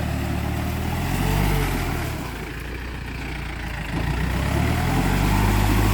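A Yanmar tractor engine labours through a muddy paddy field, giving a steady, close, low rumbling drone that swells and dips slightly in load with no voices.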